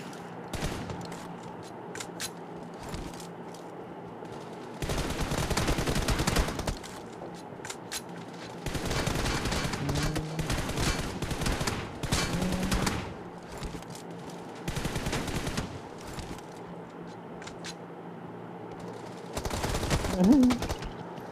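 Rapid automatic gunfire in a team deathmatch shooter game, several loud sustained bursts of dense machine-gun fire separated by quieter stretches, with occasional talk and game sounds in between.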